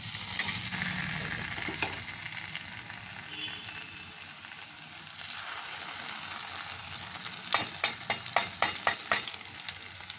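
Ground poppy seed paste stirred into two medium onions frying in a pan gives a steady sizzle, with a run of sharp scraping stir strokes near the end and no talk.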